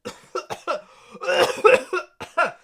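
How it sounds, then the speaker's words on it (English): A short coughing fit: several sharp, harsh coughs in quick succession, close and loud, with brief pauses between bursts. "sorry, a little coughing fit right over there."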